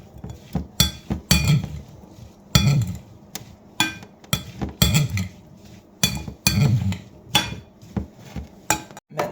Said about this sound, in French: Ensuite, on mélange un peu.